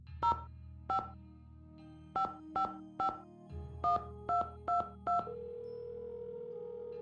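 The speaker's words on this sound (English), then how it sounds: "Alright, let's make this next phone call." Telephone keypad tones dialing a number in a Nancy Drew video game, eleven short beeps in an uneven rhythm over a steady dial tone, with the tone shifting partway through and a sustained tone at the end.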